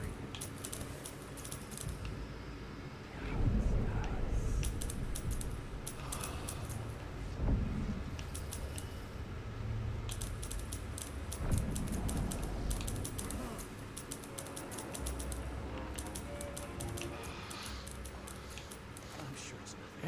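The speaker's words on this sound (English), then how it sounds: "typewriters are freaking loud." Typewriters clack in the video game Dishonored 2, a busy run of rapid mechanical taps continuing throughout under game dialogue and a speaking voice, with louder bursts in places.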